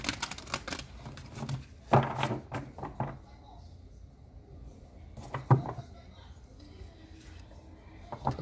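Tarot cards are shuffled in quick bursts of crisp riffling and clicking, with two sharper clusters of card snaps separated by quieter gaps, heard close and fairly soft.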